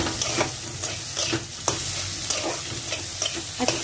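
Masala frying and being stirred in a pan for dhaba-style egg tarka, a steady close sizzle broken by repeated scraping spoon strokes, with no talk.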